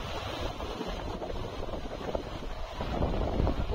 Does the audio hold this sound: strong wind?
yes